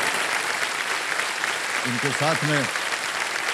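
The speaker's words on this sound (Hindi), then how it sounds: "एक बार तालियां बज जाए उनके लिए" Studio audience on the KBC game show clapping in a steady, dense wash of applause that runs the whole time, with a voice speaking briefly over it midway.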